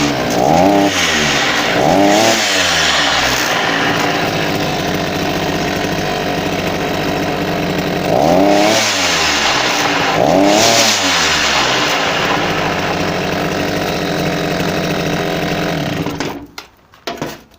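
A petrol brush cutter's small two-stroke engine runs loudly and roughly with a faulty, noisy mechanism, revving up and down in repeated surges before cutting off near the end.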